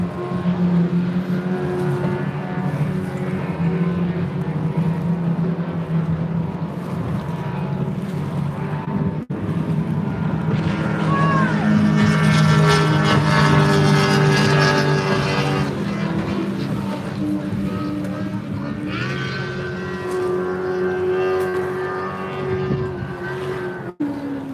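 Model racing boats with 175 motors, including a Bernico hull, buzz continuously across water during an F2 race, a steady high-pitched engine whine with rising and falling pitch as boats pass, loud throughout.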